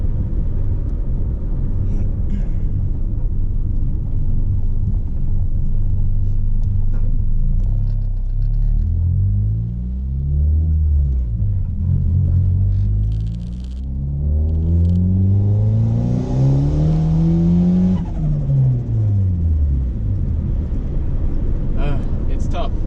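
A boosted Honda Accord pulls hard in second gear, its engine note rising steadily in pitch with a loud, continuous rumble and a brief dip at the shift, heard from inside the car.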